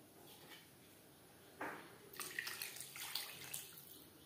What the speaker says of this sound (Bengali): দিয়ে দেব মশলা ধোয়া জল